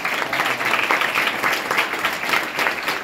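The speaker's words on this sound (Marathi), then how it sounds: "जोरदार टाळ्या वाजवा." Loud, sustained applause from an audience at a spiritual guidance event for students in Maharashtra, a dense steady clapping that fills the whole stretch without pause.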